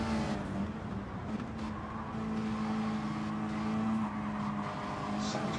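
Ferrari race car in a racing video game, its engine droning loud and steady throughout with a sustained tonal whine, a little scraping of light contact among the cars.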